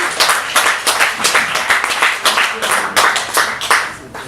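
An audience at a night of spoken word and music in Ruigoord applauds loudly, a dense run of close claps swelling in pulses and carrying on steadily throughout.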